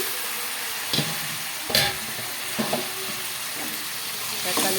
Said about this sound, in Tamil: இஞ்சி பூண்டு போட்டு நல்லா வணக்கணும்